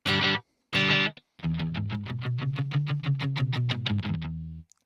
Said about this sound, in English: If we go to mode B, this is more of a slapback sort of sound